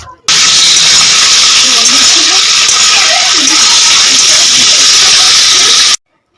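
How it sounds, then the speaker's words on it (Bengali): Onion, capsicum and a few slit green chillies fry in a pan with a loud, steady hiss that starts abruptly, holds evenly for about six seconds, then cuts off sharply. "পেঁয়াজ ক্যাপসিকাম আর কয়েকটা লঙ্কা চিড়ে দিয়ে ভেজে নেওয়া হচ্ছে"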